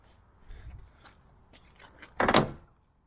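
A damaged car door, bent around its support bars, creaks faintly as it opens, then shuts with a loud, close thump near the end.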